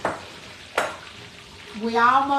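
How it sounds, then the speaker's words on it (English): Catfish frying in a home kitchen, a soft oil crackle and sizzle with a couple of sharp stir or clatter hits, while a voice briefly chimes in near the end. "they frying the catfish"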